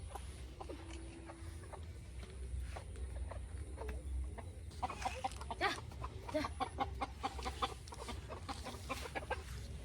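Hens cluck repeatedly in short, clipped calls nearby, growing busier and more frequent toward the end over a low background hum.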